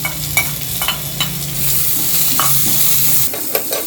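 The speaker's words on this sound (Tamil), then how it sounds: "இதுலேயே நம்ம வந்து வெங்காயத்தையும் சேர்த்துக்கலாம்" Onions fry with coriander seeds in a hot pan, loud close sizzling with several clattering stirs, the sizzle cutting off near the end.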